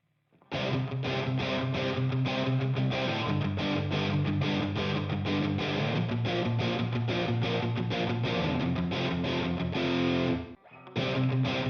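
A distorted electric guitar plays steady chugging chords through a Headrush effects processor with no phase inversion, loud and continuous, cutting off briefly near the end.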